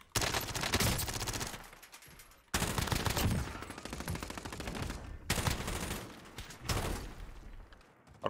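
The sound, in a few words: minigun gunfire in a video game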